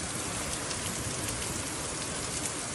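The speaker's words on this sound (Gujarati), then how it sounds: "કોડીનારના ગ્રામ્ય પંથકમાં કમોસમી વરસાદ છે" Unseasonal rain falls over rural villages around Kodinar in Gir Somnath. It makes a steady, even hiss of drops on surfaces, moderately quiet and unbroken, with no voices.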